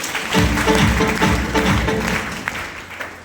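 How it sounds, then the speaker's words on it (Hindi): Clapping from an audience at a business or motivational event in India, mixed with rhythmic tapping, a loud murmur of voices and background music. "बजाओ ताली इसके लिए।"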